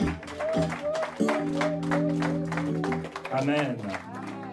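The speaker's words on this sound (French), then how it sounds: "J'ai dit on peut applaudir pour le Seigneur." A church congregation claps for the Lord during a Sunday morning prayer service, steady rhythmic clapping running throughout beneath a sung or chanted voice and sustained keyboard tones, with a spoken word from the leader.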